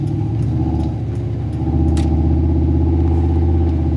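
Old Ford truck driving in first gear, its engine a loud, close, steady rumbling drone with a throbbing low growl that rises slightly in pitch midway, no speech over it.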